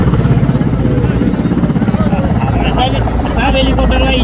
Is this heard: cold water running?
no